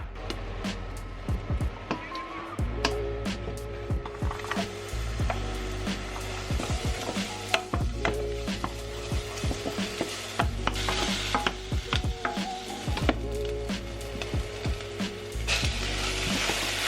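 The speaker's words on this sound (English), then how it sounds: "in a separate pan you're going to want to heat up some oil and cook an onion and loads of garlic" Onion and plenty of garlic cook in hot oil in a pan, with a faint sizzle under frequent sharp clicks and knocks from stirring, plus a steady low hum nearby.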